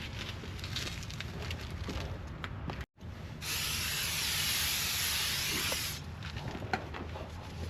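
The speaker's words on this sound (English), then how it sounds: "before we put this one, I'm gonna clean with the brake cleaner." Brake cleaner aerosol sprayed onto a new brake rotor during a brake pad and rotor replacement: a loud, close, continuous hiss lasting a few seconds, set against quieter workshop background noise.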